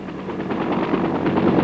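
Sustained automatic gunfire from enemy ground positions aimed at an attack helicopter in Vietnam, a dense, continuous rattle of rapid bursts heard close and fairly loud.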